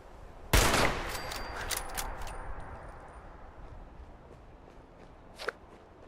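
A single sharp gunshot from a weapon in Fallout 76, loud and close, ringing out briefly, followed by a long pause with faint ambient noise and a second, softer shot near the end, no talking.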